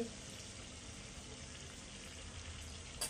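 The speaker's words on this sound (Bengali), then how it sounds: "এই সাইডটাও আমি কিছুক্ষণ ফ্রাই করে নিব।" Coconut pieces fry in a pan for a coconut soup, giving a steady, close sizzle and crackle that runs unbroken, with a slight stirring scrape near the end.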